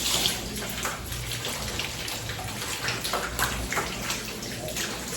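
Cassava roots get scrubbed and washed by hand in water, making a continuous splashing, sloshing wash with scattered drips and rubbing sounds throughout, fairly faint and steady.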